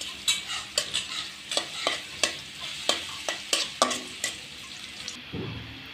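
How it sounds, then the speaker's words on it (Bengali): Onions being stirred and fried with garam masala in a pan for a chicken skin and bottle gourd curry, with repeated scraping stir strokes over a steady close sizzle. "পেঁয়াজটা ভাজা হচ্ছে তার মধ্যেই।"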